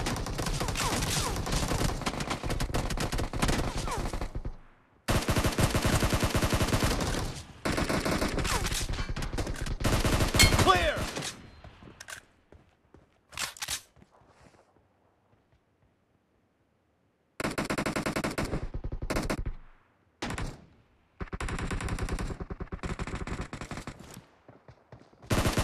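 Gunfire in the mobile battle-royale game PUBG Mobile comes as rapid automatic bursts, dense and loud, broken by abrupt silent gaps. One stretch of several seconds is completely quiet before the shooting resumes.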